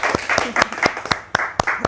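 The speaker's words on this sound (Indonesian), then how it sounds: "Boleh tepuk tangannya dulu." Brief scattered hand clapping in an Indonesian podcast studio, a few sharp claps spread over about two seconds rather than full applause, close and moderately loud.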